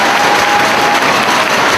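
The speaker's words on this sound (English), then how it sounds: "the crowd urging him to get back to his feet" Wrestling crowd at an ROH match, a dense, loud, steady roar of cheering and applause with no break.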